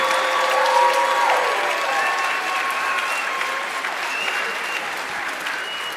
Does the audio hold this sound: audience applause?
yes